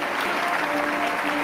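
Dense, steady applause from a large audience at a prayer festival revival gathering, loud and continuous with no pauses.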